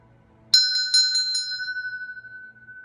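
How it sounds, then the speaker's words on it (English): A meditation bell rung for crown chakra practice strikes about five times in quick succession, each bright metallic ring overlapping, then a single clear tone sustains and slowly fades over quiet background. "Let me go ahead and ring that bell for you."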